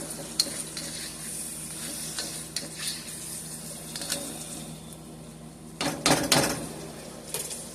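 Seasoned beef cubes and stir-fried cabbage with hot sauce cooking in a pan: a faint, steady hiss of sizzling under quiet clinks and scrapes of stirring, with a louder burst of clattering near the end.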